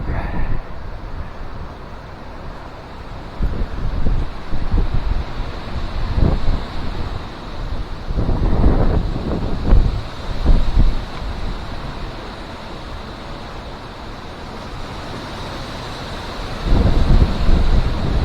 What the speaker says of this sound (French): je vais vous faire écouter le vent